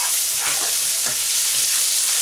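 Garlic frying in hot oil for a green fish curry, stirred around the pan: a loud, steady sizzle with faint scraping from the stirring.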